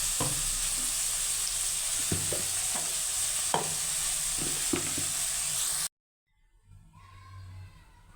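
Ground onion paste frying in a pan for an okra tamarind kuzhambu, a dense continuous sizzle with repeated clacks of a stirring spoon, close, stopping abruptly before a quieter, softer bubbling sizzle resumes.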